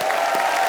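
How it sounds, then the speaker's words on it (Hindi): A studio audience claps in a brief, dense burst of applause that stays steady and fairly loud throughout, without individual claps standing out. "एक बार राजू भाई के लिए जोरदार तालियां"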